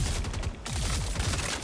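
Scalpel sniper rifle fire in a video game: loud, close shots with a dense burst of rapid reports, a brief dip, then another sustained volley.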